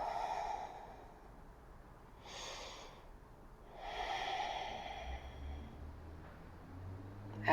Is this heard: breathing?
yes